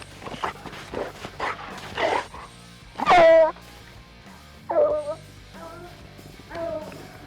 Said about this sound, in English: we just released the dogs